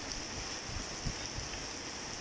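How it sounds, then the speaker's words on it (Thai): Steady, soft rainfall hisses evenly throughout, a continuous wash of drops with no voices. "ฝนเริ่มเบาแล้ว"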